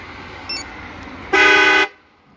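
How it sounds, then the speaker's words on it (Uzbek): A car horn gives one loud, steady honk of about half a second. A faint short tone sounds just before it. "Signal çaldı."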